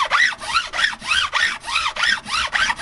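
A hand file rasps across the cut ends of stainless steel guitar frets during a refret, about nine even back-and-forth strokes, close and loud with no talking.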